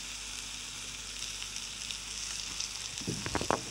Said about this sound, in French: je retourne les poireaux. Il faut bien colorer.